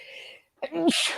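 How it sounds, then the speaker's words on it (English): A person sneezes once during a live online talk, a short sharp burst after a breathy intake, close and loud, with speech just before it. "I'm going to sneeze."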